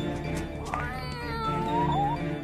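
A cartoon cat meows in a drawn-out, wavering, whiny cry over a steady background drone, close and fairly loud, with no talk.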